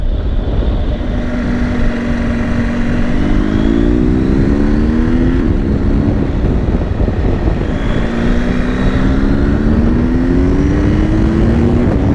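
BMW GS Enduro motorcycle in Dynamic Pro mode accelerating hard, engine note climbing twice through the gears in loud, close revving surges under steady wind rush.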